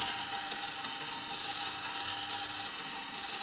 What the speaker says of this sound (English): I will just start the motion of this motor.